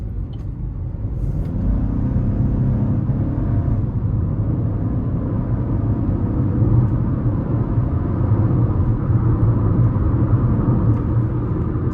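A 2026 Chevy Trax 1LT with a 1.2-liter turbocharged three-cylinder engine pulls onto an interstate, giving a loud, steady low engine and road rumble that holds for the whole stretch with no talking.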